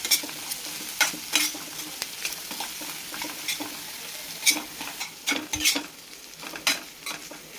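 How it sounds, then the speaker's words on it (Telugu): Egg curry is stirred in a sizzling pan, with a soft steady frying hiss under repeated scraping strokes of a spoon against the pan at an uneven rhythm, close and alone. "ఇది కొంచెం సేపు కుక్ కావాలి, ఎగ్ అంతా కుక్ కావాలి. అప్పటి వరకు దీన్ని కలుపుతూనే ఉండాలి."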